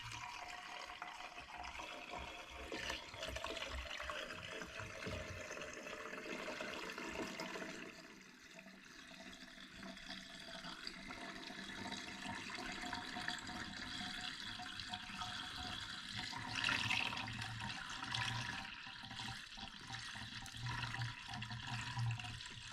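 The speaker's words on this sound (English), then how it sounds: "dump our coolant in." Coolant pours into the cooling system of a 2018 Ford Focus that has been overheating, a faint steady liquid rush with a slight dip partway through and no voices over it.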